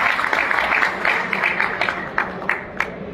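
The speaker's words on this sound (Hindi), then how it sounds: "आप अपने लिए जोरदार तालियां बजाएं।" Workers at an employee conference in Karnal applaud with a moderately loud wash of clapping. It thins toward the end into a few scattered, distinct claps.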